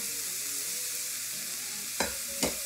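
Chopped bacon, half a pound, sautés in a preheated skillet with a steady, soft frying hiss, broken near the end by two short scrapes of stirring.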